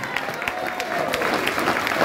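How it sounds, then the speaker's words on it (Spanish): Audience applause and scattered cheers from the crowd at a Pride march in Alcaldía Miguel Hidalgo, steady dense clapping for about two seconds with a faint voice in the mix. "¡Un aplauso!"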